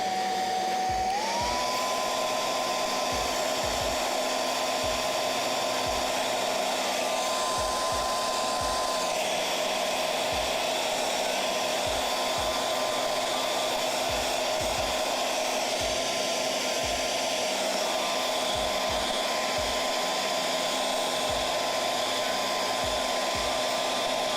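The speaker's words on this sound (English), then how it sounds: "a little bit of hairdryer" A hair dryer blows steadily throughout, a continuous whirring hum with a constant tone, close and fairly loud, with faint clicks underneath.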